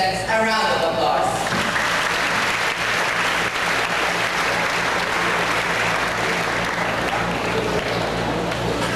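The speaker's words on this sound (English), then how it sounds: "Please give the contestants a round of applause." Audience at an impromptu speech contest applauding the contestants, a dense, steady wash of many hands clapping for several seconds, close and loud, with a brief voice at the start.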